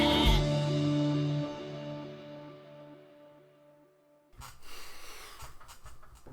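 A sheep bleats once, loud and close, its drawn-out wavering cry fading over several seconds, followed by softer snorting breaths.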